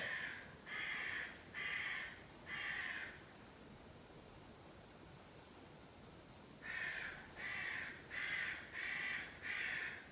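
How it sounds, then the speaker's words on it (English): Crows caw in two bursts, four harsh calls, a pause, then five more, moderately distant with faint background hiss. "Got some crows talking to us outside by the sound of it."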